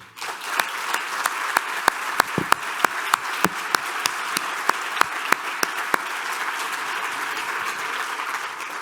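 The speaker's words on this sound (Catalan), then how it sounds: "Un fort aplaudiment" A gala-night audience at a closing ceremony gives a sustained round of applause, a dense bed of clapping with distinct crisp single claps ringing out near the microphone at a fairly regular pace.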